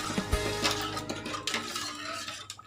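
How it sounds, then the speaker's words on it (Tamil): Spoon stirring ragi malt milk in a pot on a stove over low flame, with repeated scraping and clinking against the metal pot, close and fairly loud. "இந்த பாலை ஃபில்டர் பண்ண பாலை வச்சு கைவிடாத நீங்கள் கிளறிட்டே இருக்கணும்"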